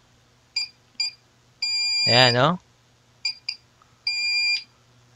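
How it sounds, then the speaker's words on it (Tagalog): A signal injector's buzzer beeps close by in short chirps and longer tones. A voice speaks briefly over one of the long tones. "Tapos ito yung buzzer natin."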